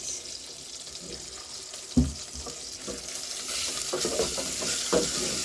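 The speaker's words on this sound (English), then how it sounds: "we get into the process of frying it" Beef sizzles loudly in hot cooking oil for stew after a sharp splash, the frying hiss building and crackling steadily up close.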